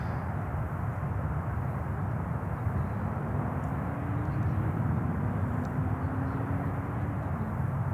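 A jet airliner taking off from Charlotte airport, a continuous broad engine roar with a slowly rising whine, heard from a distance and holding steady throughout without any voices.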